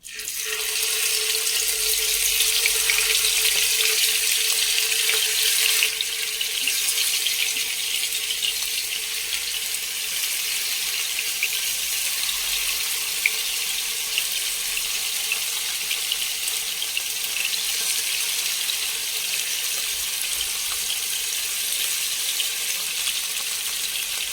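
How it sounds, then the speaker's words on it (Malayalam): Fish frying in coconut oil with a spoonful of ghee, giving a steady, bright hissing sizzle that carries on evenly throughout, with no voices. "ഇതിലേക്ക് നമുക്ക് മീൻ വറക്കാനിടാം."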